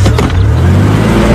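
A commandeered car races in pursuit of a school bus in a film chase, its engine giving a loud, close, continuous rumble with a deep low drone throughout.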